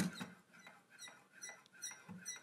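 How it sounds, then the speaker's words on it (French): A SimJack Pro sim racing accelerator pedal squeaks faintly as it is pressed repeatedly, thin high creaks recurring in a steady rhythm in a quiet room. "Voilà, il grince légèrement"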